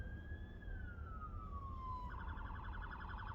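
Police car siren wailing in a long slow sweep that then switches to a rapid yelp, heard over steady road and engine rumble from inside a moving car.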